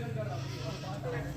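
A goat bleats close by on a goat farm, wavering cries heard under and alongside someone talking.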